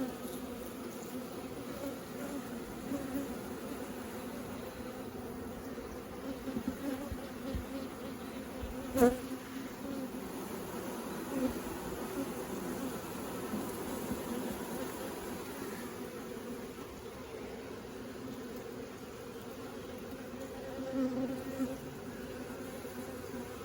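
Honeybees drone continuously around an open hive while nucs are being installed, a steady buzzing swarm close by with one sharp knock partway through.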